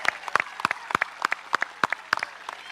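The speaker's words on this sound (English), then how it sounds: "Let's give them a round of applause." Scattered, sparse clapping from a small group, individual claps distinct and fairly distant in a large room, at a high school graduation ceremony.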